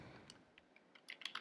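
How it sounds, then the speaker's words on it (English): Keystrokes on a computer keyboard while entering text in a notes program, a quiet scatter of light clicks that quickens into a denser cluster of taps toward the end, with no one talking. "I can type text just by double clicking."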